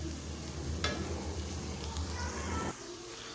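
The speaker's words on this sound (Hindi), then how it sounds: "इसको अच्छी तरह से फ्राई कर लेते हैं" A pan frying for dal mash gives off a dense, close sizzle with a few light clinks, then drops suddenly to a quieter hiss near the end; no one speaks.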